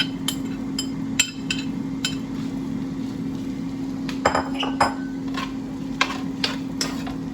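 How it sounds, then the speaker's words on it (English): Sweet potato and chickpea mixture sautéing in a wok: a steady low sizzle beneath a hum, with a string of sharp metallic clinks and taps of a utensil against the wok, close by and without talk. "we are going to go to the wok, put this in, and start sauteing"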